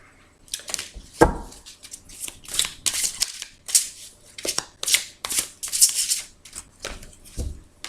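Tarot cards shuffled by hand for a reading, a run of brisk riffling and slapping bursts repeating steadily over several seconds, close and fairly loud with no talking.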